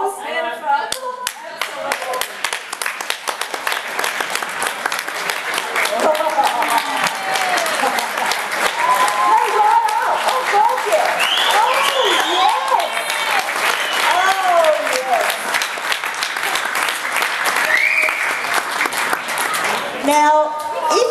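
A live audience at a thank-you presentation in Kyabram claps and cheers loudly and continuously, with voices and whoops mixed in over the dense clapping.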